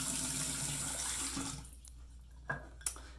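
Water running from a bathroom tap to wet the face before shaving, a steady close splash for about a second and a half, then fading into quiet with a couple of small drips or splashes.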